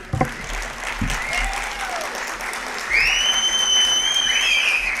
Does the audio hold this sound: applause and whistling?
yes